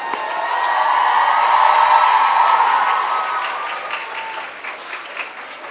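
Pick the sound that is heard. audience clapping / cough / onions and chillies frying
audience clapping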